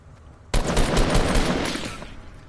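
In Fortnite, a sniper rifle shot cracks abruptly out of near quiet, then a loud, broad roar of reverberating fire and echo rolls on for about two seconds before slowly fading.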